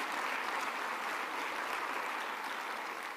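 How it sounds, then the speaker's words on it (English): Steady applause from an audience at a city mayor's State of the City address, a dense even wash of many clapping hands lasting the full few seconds at moderate distance, with no talking over it. "Give them a round of applause."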